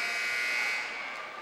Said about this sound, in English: That'll run it down to the buzzer here